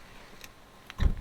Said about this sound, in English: that's the solenoid for the indicator